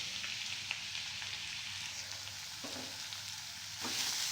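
Mustard seeds and curry leaves sizzle in hot oil in a pan for a carrot poriyal, a soft, steady crackle with a few sharp pops and a brief louder hiss near the end.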